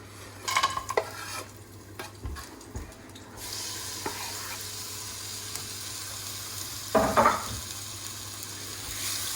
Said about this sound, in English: So now we want to add the dry spices and the spice paste to a hot pan.